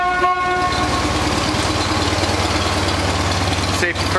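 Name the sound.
train horn honking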